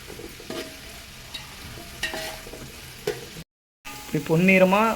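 Onions fry in a pan for chicken biryani, a steady sizzle broken by sharp spatula scrapes and stirs, then a brief silence before a louder burst with a voice speaking over the frying.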